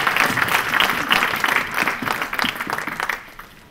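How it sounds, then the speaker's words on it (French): Congregation clapping during a church deliverance service, a lively round of applause from the gathered worshippers that is strong at first and gradually fades away over a few seconds. "clap for the glory of God?"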